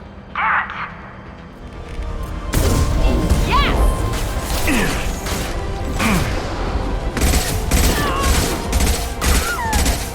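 Gunfire and crashing impacts fill a Mass Effect 2 combat cutscene, loud bursts of shots and smashes rolling on after a quieter opening, with game voices and effects layered in.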